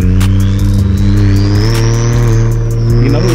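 Close, loud engine revving from a big-turbo BMW 335i, a steady droning tone with rhythmic pulses and a rising high turbo whistle sweeping upward across the few seconds, no voices over it.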